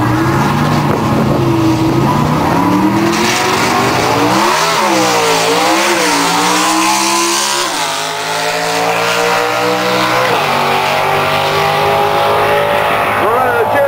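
A drag race car engine, run through a Jericho transmission, revs hard toward about 10,000 RPM, a loud continuous roar sweeping up and down in pitch as it climbs through gears, with talk faintly beneath.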